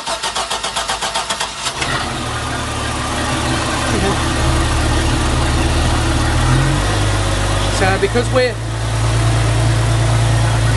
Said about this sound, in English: So I'm going to fire this engine up, and then we're going to look at a few things.